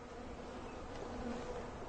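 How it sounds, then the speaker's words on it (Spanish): Honey bees buzz steadily at a healthy beehive after winter, a dense, continuous drone of many insects close by, with no voices. "Esta sí que es una hermosa colmena de abejas."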